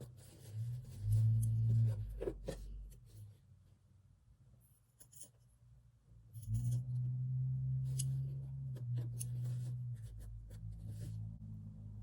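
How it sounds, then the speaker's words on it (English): Small scissors snip embroidery turkey work pile, giving soft, close, scattered cutting clicks, with low handling rustle and a low hum between them. "So trim carefully and slowly and a little at a time until you get just the right amount of pile"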